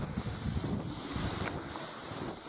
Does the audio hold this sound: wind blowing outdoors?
yes